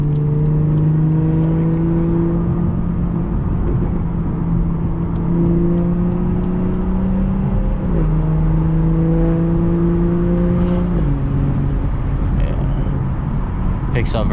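A fully tuned BMW 440i accelerates hard, its engine droning loud and steady with pitch climbing through the gears and dipping at each shift, heard from inside the car.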